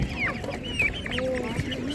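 Broiler chickens clucking at a Ukrainian livestock market, several short calls rising over a busy crowd murmur with voices in the background.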